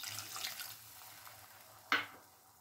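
Half a cup of water is poured into a pan of thick green chilli curry, giving one short, soft splash after quiet kitchen hiss.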